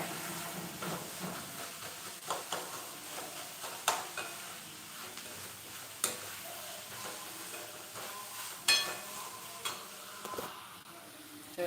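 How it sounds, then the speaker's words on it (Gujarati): Homemade sambar bubbling and simmering in a pot in a home kitchen, a steady soft hiss with scattered small pops and clinks, fairly faint and with no talking. "સંભાર બહુ સરસ ઉકળી રહ્યો છે"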